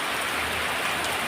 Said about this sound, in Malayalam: മഴ പെയ്യുന്ന നോക്കിയാൽ നല്ല അടിപൊളി മഴ